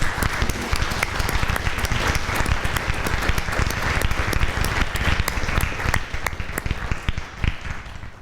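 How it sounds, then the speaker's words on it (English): A conference audience applauds a journalism panel on trade, a dense, steady wash of many hands clapping that holds strong for about eight seconds before thinning slightly at the end. "audience, let's give them a round of applause"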